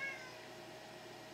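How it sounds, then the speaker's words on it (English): A cat meows close by, one short call in a quiet indoor room, with a steady low background hum and no voices. "Get lost, cat."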